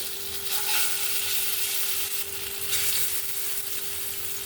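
Bean paste meets hot oil in a pan and sizzles in a dense continuous hiss, with faint stirring movement and a low steady hum beneath.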